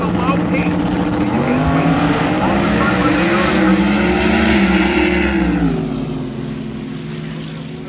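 A Buick hearse drag car makes its run at Gainesville Raceway, its engine roaring loud and sustained with rising pitch, then fading away as the car moves off down the track.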